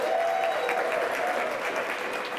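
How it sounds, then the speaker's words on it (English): An audience at a community event claps steadily throughout, a dense and sustained burst of applause from a room full of people, fairly loud and close. "Was that your table doing all the applause"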